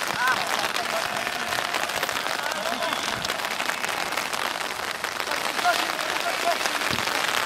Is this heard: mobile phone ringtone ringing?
no